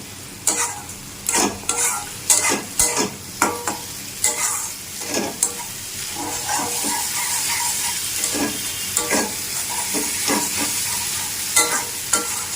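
Spice masala for chicken curry stir-fried in oil, loud rhythmic scraping strokes over a constant close sizzle that settles to a steady fry in the later part, no talking.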